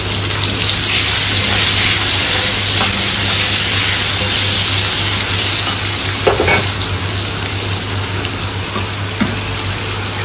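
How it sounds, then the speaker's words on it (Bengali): Potatoes fry in the oil left over from frying fish, giving a loud, continuous sizzle with occasional stirring scrapes throughout, and no one speaks. "মাছ ভাজার তেলেই অল্প করে আলুটা ভেজে নেওয়া হচ্ছে।"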